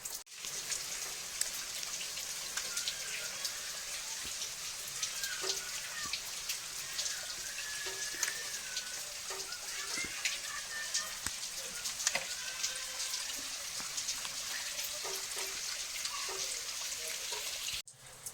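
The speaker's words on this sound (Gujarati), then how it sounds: "અત્યારે ધીમો ધીમો વરસાદ પડે છે." Light, steady rain falls over a Gujarati village, with a dense even patter and scattered individual drops ticking on nearby surfaces throughout, close and continuous with no speech.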